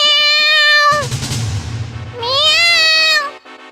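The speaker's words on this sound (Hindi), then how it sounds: "इतने में वहां पर बिल्ली आ गई।" A cat in an animated Hindi moral story about mice lets out two long, loud, clear meows near the listener, with a short burst of rumbling noise between them.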